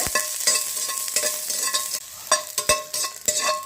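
Garlic frying in a hot pan for a pickle, with a steady sizzle and repeated sharp scraping stir strokes, loud and close, no voices.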